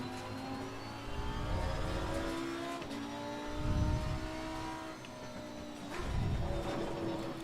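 Race car engine in Assetto Corsa Competizione at Kyalami, a heavy GT car, droning steadily with rising and falling revs and three swelling low-end surges, moderately loud with no talk over it.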